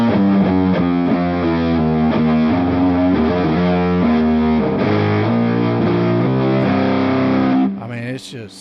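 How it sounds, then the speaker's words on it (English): An electric guitar plays through heavy distortion, with no tube screamer engaged, giving a dense, sustained wall of chords that rings loud and steady before cutting off near the end. "it's just so much distortion. It's this wall, this bloated wall"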